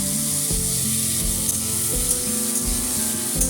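Diced potatoes fry in a pan with bay leaves for a bottle gourd kofta curry, giving a steady, continuous sizzle over a tonal background hum, with no one talking.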